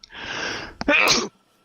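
A single loud sneeze during casual indoor gameplay chatter, with a short inhaled build-up followed by a sharp, bursting release that cuts off abruptly.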